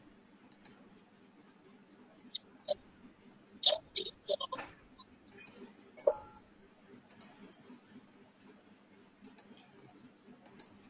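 Mouse clicks during a computer class on conditional formatting, a few sharp, faint clicks scattered over the clip beneath a low background hum.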